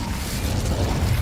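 In Hogwarts Legacy, the Incendio fire spell is cast: a dense, loud roaring whoosh of flame that rumbles steadily throughout a brief moment.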